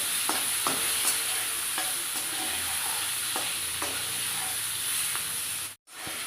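Raw mango pieces with salt and turmeric fry in a pan with a steady, close sizzle, while a spatula stirs them in scattered scraping knocks; it cuts out briefly near the end.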